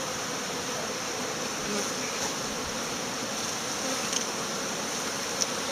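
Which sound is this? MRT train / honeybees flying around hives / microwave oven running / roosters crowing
honeybees flying around hives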